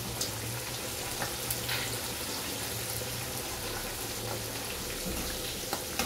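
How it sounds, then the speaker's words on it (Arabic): Peppers frying in hot oil, with a dense and steady sizzle that keeps going throughout and has faint pops scattered over it. "هنحمر الفلفل حلو"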